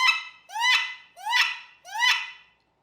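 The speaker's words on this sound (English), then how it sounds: "Now what I'm doing there is I'm blowing air, pressurized air through the call" Four rising, squealing whistles blown on a wood duck call, each a drawn-out upward-sliding note, evenly spaced, close and loud with silence between.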